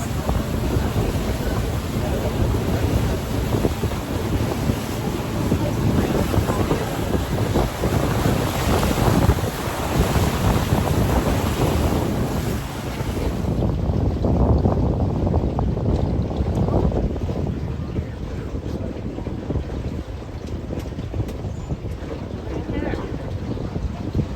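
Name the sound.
tour boat moving on water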